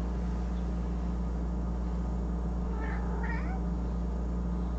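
An impatient cat meows a few short, faint times over a constant low background hum, with no one talking.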